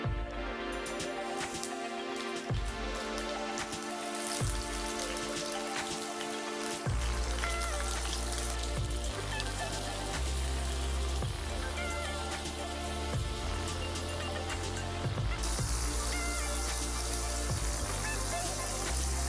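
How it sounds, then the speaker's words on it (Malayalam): Steady, dense sizzling and crackling of dried fish frying in coconut oil in a pan, continuous and close, with occasional sharper pops throughout. "ആദ്യം തന്നെ നമുക്ക് ചട്ടിയിൽ വെളിച്ചെണ്ണ ഒഴിച്ച് ഉണക്കമീൻ വറുക്കാനായിട്ട് വെക്കും"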